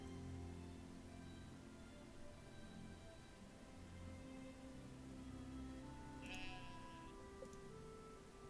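Sheep bleating in the farming game Stardew Valley, a faint bleat over a steady droning game background soundtrack.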